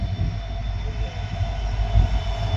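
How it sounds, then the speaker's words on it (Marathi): A freight train rumbles past steadily, a heavy low roll of wagons with a faint high ringing tone above, no voices. "अगदी मालगाडी आहे."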